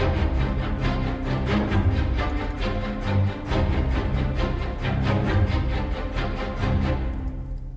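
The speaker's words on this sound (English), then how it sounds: "kind of like massive low ensemble layered" Dense layered staccato and spiccato string ensembles playing driving short bowed notes in a steady rhythm, loud and full with a massive low ensemble beneath brighter bouncing upper parts.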